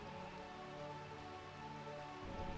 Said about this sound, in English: Burmecia here is perpetually in rain